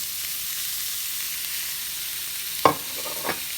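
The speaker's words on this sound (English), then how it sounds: "with the Spam right now is I want to let it cook in with the onions and let it get brown" Spam frying with caramelized onions in a pan, a steady soft sizzle throughout with a sharp clatter of stirring near the end and a second lighter scrape after.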